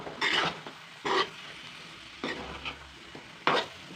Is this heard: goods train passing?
no